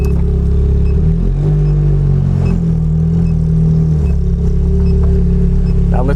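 A Ferrari Challenge Stradale supercar engine runs loud and close, a deep sustained roar with pitch shifts as it revs, filling the whole clip without a break.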